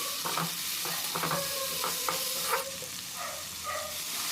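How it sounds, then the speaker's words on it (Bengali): Tomato and potato being stirred in a frying pan with a utensil, a steady sizzle under repeated scraping strokes and soft clinks, close and continuous with no voices. "এবার এর মধ্যে দিয়ে দিলাম টমেটোর টমেটোর দিয়ে আলুর সঙ্গে ভালোভাবে মিক্স করে নিতে হবে"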